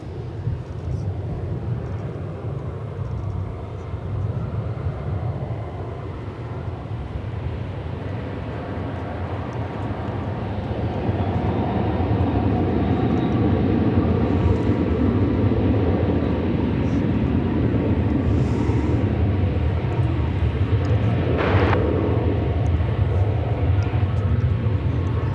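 Jet airliner taking off from runway 18L at DFW Airport, a broad steady engine roar building in loudness partway through and holding strong, heard from a distance without talk.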